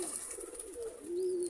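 Pigeons feeding alongside chickens on mixed cabbage and cauliflower feed give a soft, low cooing, faint and close, with a couple of drawn-out coos over light background noise.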